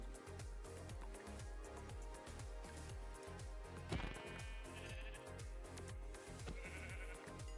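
Sheep bleating in the Minecraft Omnifactory modpack, steady repeated calls over a regular thumping game backdrop with a brief louder burst near the middle.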